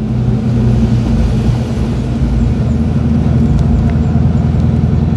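A 1989 Ford Mustang 5.0 V8 putters through a residential neighborhood in low gears, its steady, deep engine rumble close and loud throughout with no talking.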